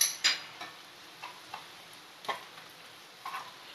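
Onion with ginger-garlic paste frying in a pan for chicken curry, a soft steady sizzle with occasional spatula scrapes and taps, close and fairly quiet, no talking.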